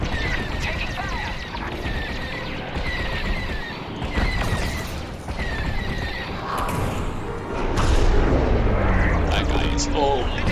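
Blaster fire and explosions in Star Wars Squadrons during a Star Destroyer fight: repeated chirping laser shots over constant engine noise, followed by a louder, rumbling blast near the end.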